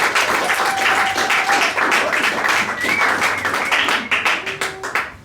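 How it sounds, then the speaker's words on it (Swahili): A church congregation claps together during a sermon, a dense, sustained patter of many hands at close range with a few voices calling out over it, the clapping loosening toward the end. "Let us clap for Jesus."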